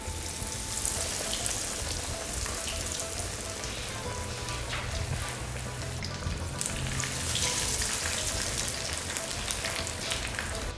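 Beer-battered cod fries in hot oil with a steady, dense sizzle and crackle that stays loud and even throughout, with no voices.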